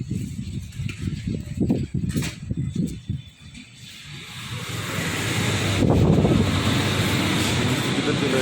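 Wind buffets a phone microphone, first under brief talk, then building into a loud, continuous roaring rush that dominates the rest.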